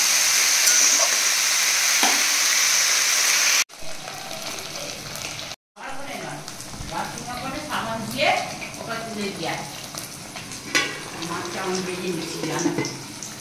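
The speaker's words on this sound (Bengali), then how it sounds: "চিকেন দিয়ে, কুমড়ো, কচু দিয়ে ভালো করে নাড়বো" Prawns, chicken, pumpkin and taro stirred in a pan, starting with a hissing rush, then after a brief cut a softer sizzle with clattering stirring and bubbling, while a voice talks nearby.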